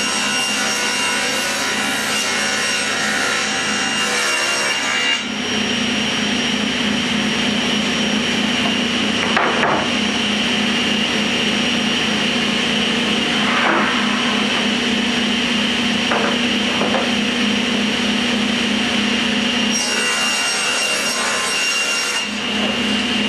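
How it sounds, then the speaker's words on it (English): A table saw runs loudly and steadily, trimming the edges of a wooden cross-cut sled guided in the miter slots. The whine and rough cutting noise continue without pause, and the pitch shifts briefly as the blade bites into the wood. "Using the miter slots, you trim the edges of your cutoff sled."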